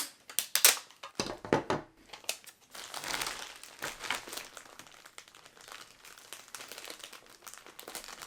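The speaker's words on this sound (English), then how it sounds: "I'm going to tape up the edge of the bag" Clear tape being pulled and pressed over the edge of a plastic bag packed for an Amazon FBA shipment: sharp crinkling and tearing bursts up front, then a steadier close plastic rustle.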